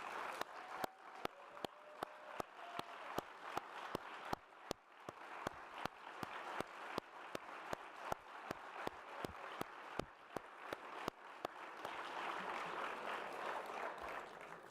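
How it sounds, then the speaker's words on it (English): An audience at a speaking event with Arne Duncan, including adults asked to stand, gives scattered, faint handclaps in an uneven, sparse rhythm that thicken into a fuller wash of applause near the end. "please stand and give them a round of applause"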